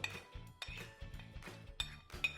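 A spoon scrapes and clinks in a bowl as onions and spices are mixed for the Manipuri snack Chengsu, with quiet, regular, close clatters about twice a second.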